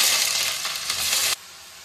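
Sliced onions fry for a banana vegetable palya, giving a loud, bright sizzle with a bit of stirring before the sizzling suddenly drops to a quieter hiss.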